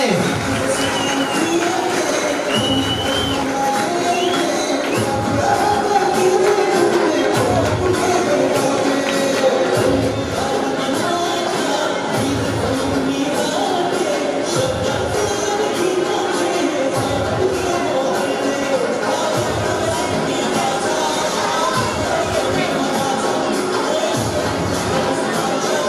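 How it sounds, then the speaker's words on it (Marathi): An audience claps and cheers for Siddhesh Shewale as he comes onto the stage at a school celebration. A dense, steady crowd din runs throughout, with shouting children in it. "सिद्धेश साठी टाळ्या होऊन जाऊ द्या"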